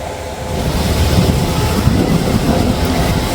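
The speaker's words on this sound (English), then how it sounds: "But I do hear the train." A steady low rumble of a train approaching a station platform builds gradually, with wind noise over the microphone and no talking.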